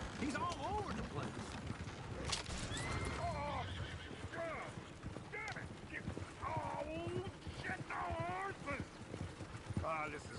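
Horse hooves clip-clop in Red Dead Redemption 2 alongside loud neighing and whinnying from horses, with a busy, dense mix running the whole time and voices talking over it.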